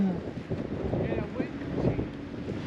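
Wind gusting across a lake during kayak fishing in mid fall, a steady broadband rush of air buffeting the microphone throughout, with faint voices murmuring underneath.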